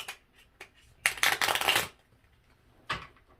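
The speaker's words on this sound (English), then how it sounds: "They're so small, they're actually really hard to shuffle." A small oracle card deck is shuffled by hand in a quiet room: a few soft taps, then a rapid papery riffle lasting almost a second, followed by one more short burst near the end.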